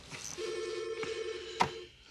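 A police station desk telephone rings once in a short electronic trill, moderately close and alone in a quiet room.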